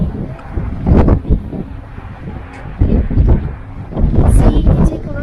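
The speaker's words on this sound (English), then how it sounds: "But it's sure so windy though." Strong gusts buffet the microphone on the summit of Mount Washington, New Hampshire, near the Cog Railway, roaring in loud surges that rise and fall every second or two, with faint voices underneath.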